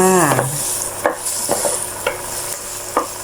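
Garlic sizzling in a hot pan as the base for stir-fried liver, a steady close frying hiss punctuated by sharp scraping strokes of a spatula, with a brief tonal squeak at the start.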